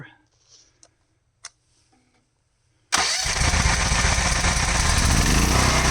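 A pump motor switches on abruptly after power is restored, following a few faint clicks and rustles, then runs loud and steady with a dense, broadband mechanical drone to the end.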